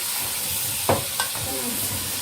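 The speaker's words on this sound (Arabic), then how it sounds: "طبعا سامعين التشطشة، سامعين الصوت الجميل ده" Trotters for soup fry in a pot with a soft, low sizzle. A spoon stirs them, giving two sharp scraping knocks, and faint hissing follows.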